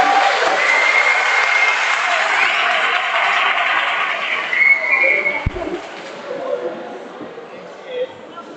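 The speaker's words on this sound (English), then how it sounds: "can we have a bit more of an applause for the song choirs?" A large audience applauds a choir performance at an awards dinner in a town hall. The dense clapping runs loud and steady for about five seconds, then thins out into scattered claps and murmuring crowd noise.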